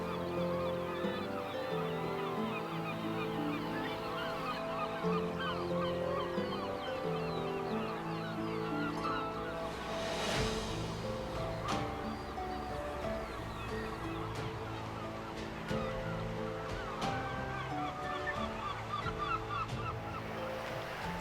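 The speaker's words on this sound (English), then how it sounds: "Razorbills mix with the cormorants and guillemots on the Bow Fiddle Rock." Seabirds call in a dense, continuous chorus of honking and croaking at a crowded coastal colony on Bow Fiddle Rock in the north of Scotland, where razorbills mix with cormorants and guillemots, with a soft wash of sea beneath.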